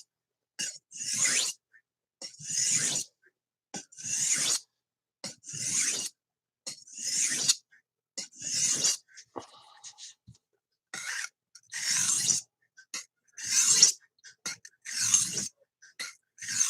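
Rhythmic raspy strokes of a knife drawn across a sharpening stone, about a dozen evenly spaced scrapes close up with brief pauses between them.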